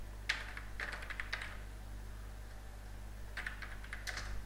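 Short clusters of quick keystrokes clatter on a computer keyboard, soft and close, with a pause in the middle and a steady low hum beneath.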